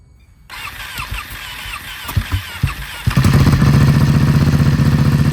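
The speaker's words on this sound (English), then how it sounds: "So let me start it up with this and see what it sounds like." A Honda Grom motorcycle fitted with an Arrow exhaust from a Ducati Panigale cranks with clicks and sputters, then fires up around three seconds into a loud, close, steady burbling idle.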